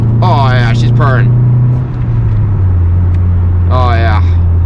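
A Honda Integra engine runs steadily while driving, a smooth low drone holding throughout, with a voice talking over it in short bursts.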